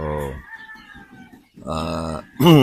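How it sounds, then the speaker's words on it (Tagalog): Two-month-old purebred pullets on a poultry farm in the Philippines give short, nearby chirping calls, with a voice speaking between them. "Ito po yung ating mga 2 months old mga sisiw."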